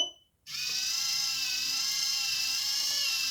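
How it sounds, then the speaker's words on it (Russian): A small mill starts up abruptly after a brief silence and settles into a steady, fairly loud high-pitched electric whir that runs on without talking. "мельница начинает работать"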